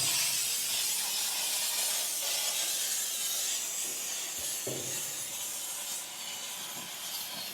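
An aerosol spray paint can hisses in a continuous, steady broad rush while coating a Camaro, fading slightly toward the end, with a brief spoken remark partway through.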